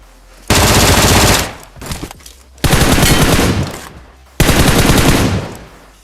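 Loud automatic gunfire in the mobile battle-royale game PUBG Mobile, three sustained bursts of rapid shots with brief gaps between them, close and dominant with no talk.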